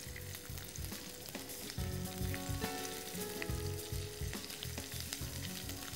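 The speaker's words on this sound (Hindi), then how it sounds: "तो इसको थोड़ा सा हिलाएं।" Vegetables frying in a pan for hot garlic vegetable, a continuous close sizzle with rhythmic scraping and clattering as they are stirred, no voices.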